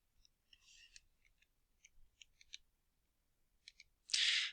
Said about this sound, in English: I'm literally typing it in right now